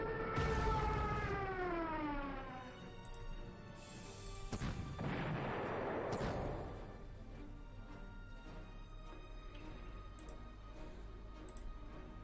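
A bombing run in the wartime strategy game Panzer Corps begins with a descending siren-like dive wail, then heavy booming blasts and crashes that fade into a low rumble.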